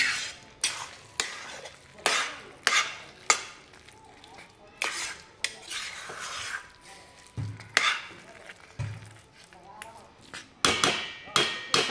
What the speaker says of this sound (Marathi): असंच अजून एक 4-5 मिनिटं व्यवस्थित परतून घेऊया हे सगळं मिश्रण.